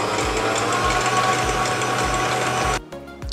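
An electric mixer whips very thick heavy cream, a loud, steady motor whine close up with a rhythmic low churning pulse, cutting off abruptly near the end.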